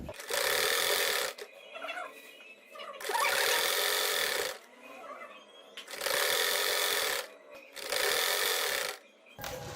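Sewing machine stitching pleats into the hem of a salwar, running in four long loud bursts of one to two seconds each, separated by quieter pauses with faint handling sounds, close to the listener.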